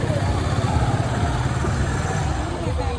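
Trawler boat engine running steadily, a loud low throbbing rumble that continues throughout, with people talking over it.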